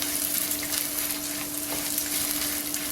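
Ingredients for a broccoli kurma, including fried gram with chillies, roast in a pan with a loud, steady sizzle and light stirring scrapes, accompanied by a constant electrical hum and no talking.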